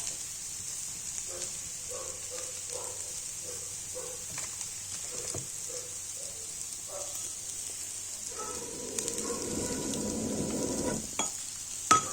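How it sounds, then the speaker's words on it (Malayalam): Fish frying in a pan gives a steady soft sizzle throughout, broken by stirring and scraping clatter, and grows into a louder, denser sizzle in the final few seconds. "അപ്പം നമ്മളെ മീൻ പൊരി ഇങ്ങനെ ആയിക്കൊണ്ടിരിക്കുന്നത് കേട്ടോ."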